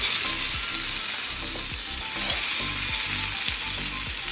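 Masala-coated fish fries on a tawa with a steady, close sizzle, broken by repeated scraping and stirring strokes.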